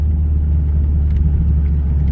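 A project car with a manual gearbox idles with a steady, loud, low rumble that barely changes. A beginner is at the wheel learning stick shift, and no one speaks.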